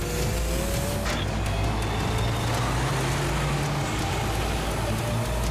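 A cartoon car speeds up in the animated series Totally Spies!, a dense, continuous roar of engine and road noise with a low hum that climbs in pitch partway through.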